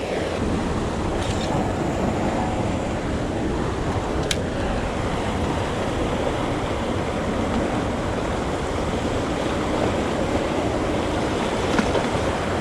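Continuous broad rush of river water washing up on a sandy shore in Richmond, Virginia, steady and fairly loud, with a couple of faint clicks and no talking.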